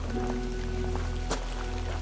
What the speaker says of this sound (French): Il pleut fort.